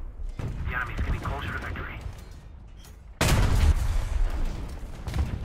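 The AMX 50 tank's cannon fires shells in War Thunder, a sudden heavy blast followed by a loud rumbling roar, with someone talking during the quieter stretch before it.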